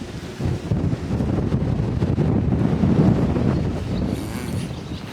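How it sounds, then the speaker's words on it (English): Strong gusts buffet a microphone outdoors in a garden, a loud low rumbling roar that swells and eases over several seconds with no talking. "It's so windy. The wind is bad."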